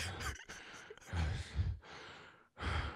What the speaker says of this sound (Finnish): Toinen hengittää mikkiä.